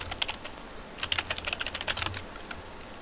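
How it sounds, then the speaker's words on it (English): Close, quick typing on a computer keyboard, a burst of crisp key clicks in uneven rhythm, with a short pause before the flurry resumes. "Let's go ahead and type in Metasploit."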